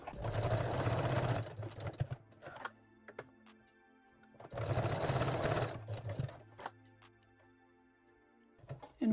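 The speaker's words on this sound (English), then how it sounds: "Lock the seam with a straight stitch." A sewing machine runs a straight stitch seam on lace-back panties in two short close bursts, separated by quiet pauses with faint clicks and handling noises.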